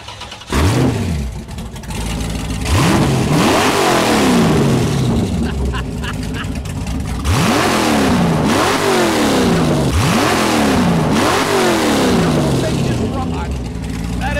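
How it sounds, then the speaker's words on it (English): Boss Hoss V8 motorcycle with a 525-horsepower Corvette LS engine fires up, then is revved hard several times, each sharp rising roar dropping back to a loping idle, loud and close. "I want to hear a 525 horsepower motorcycle."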